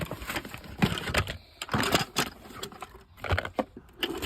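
A BG outdoor electrical socket is unpacked from its box, giving close, irregular plastic clicks, rustles and taps in short bursts with brief pauses between them.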